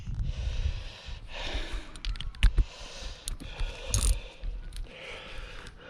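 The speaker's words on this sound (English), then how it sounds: "I need my adapter because that's a quarter inch socket and this is a 3/8 drive ratchet." A 3/8-inch drive ratchet with a 10mm socket works loose a bolt on a 2013 BMW F30 318 during rear light unit replacement, giving short bursts of near, close-up mechanical clicking and rattling with brief pauses.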